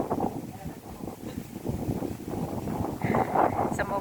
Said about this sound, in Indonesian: Ini anginnya kenceng banget, mendadak, kenceng pakai banget.